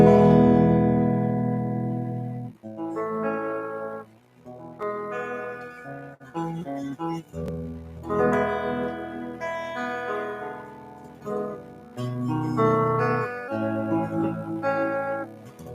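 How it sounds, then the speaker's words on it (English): Electric guitar played in a jam, bright sustained chords and melodic runs ringing loudly with short pauses between phrases, no voices. "now that's the sound of this particular guitar here"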